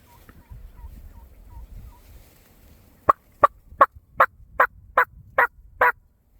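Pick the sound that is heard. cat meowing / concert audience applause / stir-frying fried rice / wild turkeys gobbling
wild turkeys gobbling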